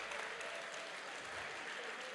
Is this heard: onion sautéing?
no